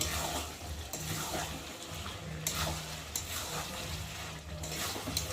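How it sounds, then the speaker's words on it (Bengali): Chicken curry with yogurt and sugar being sautéed in a pan, with a continuous sizzling hiss and soft scraping strokes of the spatula at a steady pace, close and moderately quiet. "চলো এখন ভালো করে একটু কষিয়ে নিই"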